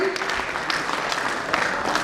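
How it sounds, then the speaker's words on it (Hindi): Audience applause at a ceremony, a steady patter of many hands clapping with a few sharper claps standing out, continuous and moderately loud. "साथियों, तालियों की गड़गड़ाहट कम नहीं होनी चाहिए।"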